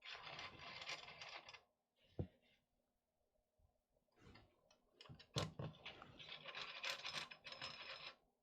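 Screws are fastened into the MGN rails of a Rat Rig V-Core 3 3D printer, heard as close, quiet bursts of ratcheting and clicking mechanical sounds separated by short silences, with a few sharp metallic ticks.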